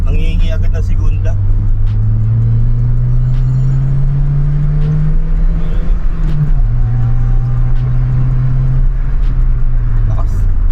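A 2019 Honda Brio with manual transmission and L12B engine pulls uphill, its loud engine drone rising steadily in pitch, dipping briefly at a gear change, then climbing again, with someone talking over it throughout.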